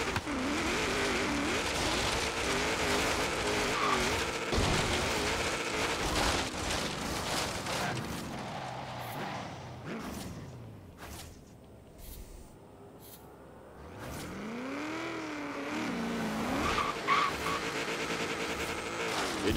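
A car drags its bumper along the road while skidding, with a steady engine drone, scraping and tire squeal rising and falling over about twenty seconds, briefly easing off in the middle.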